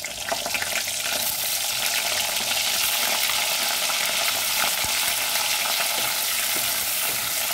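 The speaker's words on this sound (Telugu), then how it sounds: "ఇప్పుడు ఈ ముక్కల్ని వేపేసుకుందాము" Dried fish pieces fry in hot oil on a lit stove for a curry with brinjal and raw mango, giving a steady, dense, close sizzle throughout with no talking.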